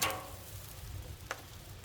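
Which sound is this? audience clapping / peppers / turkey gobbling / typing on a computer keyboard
peppers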